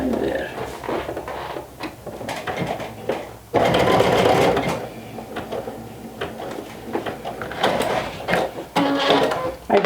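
A sewing machine stitching a buttonhole on a vintage jumper runs in short whirring, rattling bursts with brief pauses between them, fairly close and steady.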